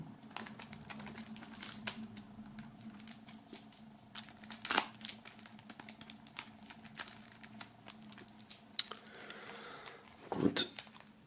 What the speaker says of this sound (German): Dann werden wir das T-Shirt mal auspacken und das Album mal auspacken.